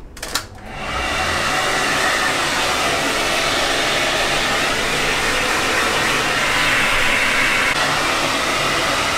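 A blow dryer switches on after a short clatter and runs with a loud, steady whooshing roar that holds to the end.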